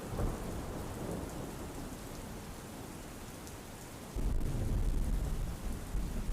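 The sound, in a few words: heavy rain and thunder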